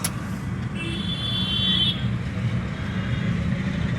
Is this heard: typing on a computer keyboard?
no